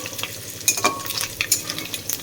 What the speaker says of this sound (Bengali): আর এখন আমি চাল কুমড়োটা ছেড়ে দেবো